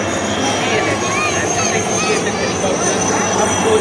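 Several helicopters fly over a beach during a naval fleet review search and rescue display, a steady loud roar with faint rotor whine under crowd noise and a public address voice.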